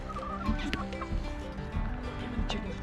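Backyard chickens eating a treat cluck and murmur in short, overlapping bursts, close by, with soft rustling between calls.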